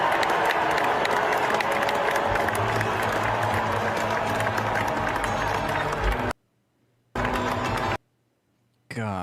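Lukewarm applause from a crowd, with scattered clapping and some voices mixed in. It runs for several seconds, then breaks into abrupt silent gaps.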